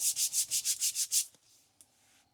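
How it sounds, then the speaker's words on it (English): Hand sanding a worn leather-covered Mercedes steering wheel, 21 years old, with a roughened top: seven quick, even strokes rasping close by, then a faint lighter scuff and a short tap. "I'm hoping sanding this down is going to alleviate a lot of that."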